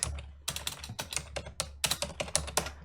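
Fingers type on a computer keyboard in short irregular bursts of crisp close key clicks, with brief pauses between runs and no voices.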